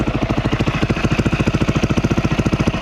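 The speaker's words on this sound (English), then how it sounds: "give it a few quick revs here to show you all that this carburetor works" An SSR 250 dirt bike engine fitted with a TTR 250 carburetor idling close by with a fast, even putter, its regular pulses keeping a steady rhythm without much change in pitch.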